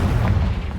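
A Confringo blasting spell explodes in Hogwarts Legacy, one short, loud, booming burst with a dense low rumble and no voices.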